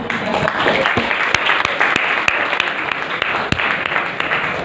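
Audience applause during a business presentation on marketing strategies: a dense, loud, continuous wash of clapping lasting several seconds, with a few sharper claps standing out near the front.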